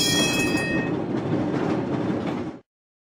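A tram rolls past with a steady rumbling roar and faint rail clatter, loud and close, alone for about two and a half seconds before cutting off abruptly.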